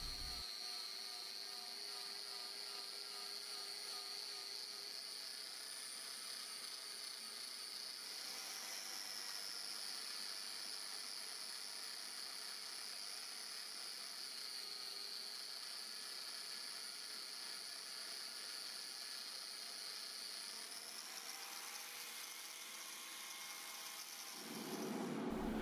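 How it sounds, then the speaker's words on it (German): Metal polished with a polishing felt and brown polishing compound while a hammer and anvil are polished in sheet metalwork, a continuous faint high motor whine with steady tones and a brief louder swell at the end. "Der letzte Schritt ist das Polieren mit einem Polierfilz und einem braunen Poliermittel."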